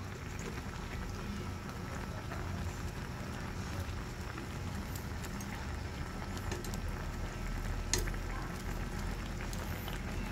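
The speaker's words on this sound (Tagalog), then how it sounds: "Mahirap lang ihahaluin guys kasi napakaliit ang aking kawali." Tuna adobo with coconut milk sizzles and bubbles in a small frying pan while it is stirred, a steady low simmering crackle with occasional scrapes and no talk over it.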